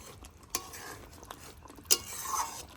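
Fried onion paste stirred into a pan of katla fish roast: quiet scraping with two sharp spoon-on-pan clinks over a faint sizzle.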